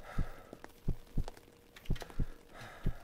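In the horror game Fibrillation, a low heartbeat thumps in paired beats, about five or six in three seconds, fairly quiet over a faint ambient hum with no talking.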